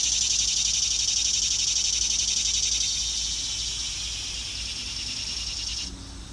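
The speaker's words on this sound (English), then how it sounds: "Sorry about the cicadas. There's a lot of them around here." A dense, steady high-pitched insect drone fills the air without pause, easing slightly before fading near the end.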